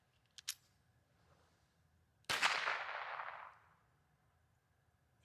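A Ruger LCP-2 .22 pistol fires a subsonic 710 fps quiet round: a short sharp report followed by a brief decaying ring, preceded by a small mechanical click, otherwise quiet.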